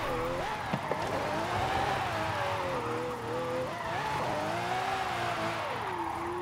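A car slides sideways in Forza Horizon 5, its engine droning with shifting pitch over a constant tyre roar, loud and sustained throughout.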